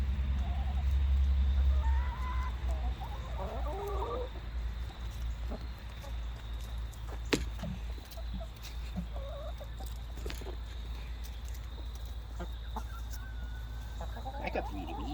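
Chickens clucking in a farmyard, a few soft calls in short scattered bursts over steady low background rumble, with a brief louder burst near the start.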